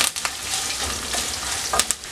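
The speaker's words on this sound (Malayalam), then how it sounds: "തേങ്ങാക്കൊത്ത് നല്ലതുപോലെ ഒന്ന് മൂത്ത് വരട്ടെ." Coconut pieces and soya chunks sizzle steadily while frying in a pan, with a few brief stirring clinks over a constant close hiss.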